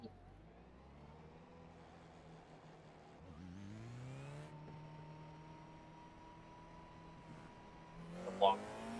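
F4 race car engine at Okayama's short layout in the racing game iRacing: a steady, faint buzzing drone that rises in pitch through gear changes, with a brief louder burst near the end.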